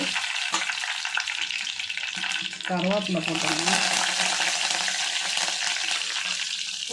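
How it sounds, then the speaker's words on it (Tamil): Mustard seeds and fenugreek splutter and sizzle in hot oil for a Tamil anchovy fish curry, a steady, loud crackling frying noise with brief stirring, while someone speaks over it. "கடுகு வெந்தயம் எல்லாம் வந்து நல்லா சுழந்துட்டு பாருங்க கடுகு பொரியுது"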